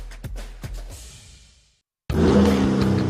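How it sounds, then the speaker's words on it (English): A 2023 Chevy Silverado with a TurboMax engine: a few low, thumping engine pulses fade out, then after a brief silence a loud, full-bodied revving roar bursts in and holds steady, close and without speech. "Hear that? That's the sound of the 2023 Chevy Silverado and its TurboMax engine."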